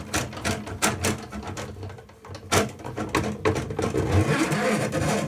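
A motorized drain cleaning cable machine feeds its cable into a tub drain, giving a close, busy mechanical whirring and rattling that surges and dips, with a brief lull midway before running steadily again.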